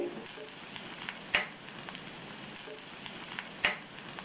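Chopped vegetables sauté in a pan for instant vegetable rava dosa, a soft continuous sizzle with a couple of sharp spoon clinks as they are stirred, quiet and close.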